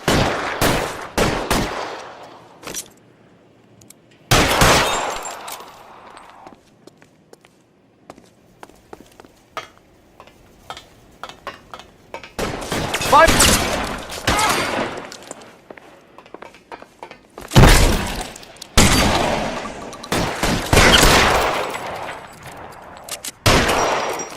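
Gunfire during a shootout in L.A. Noire comes in loud sharp bursts and rapid volleys, separated by quieter stretches of scattered shots and movement.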